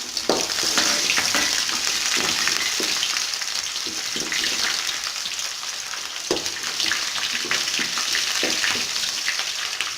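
Onions added to chana dal and mustard seeds frying in hot oil, a loud steady sizzle with scattered pops and spatula knocks throughout, no voices.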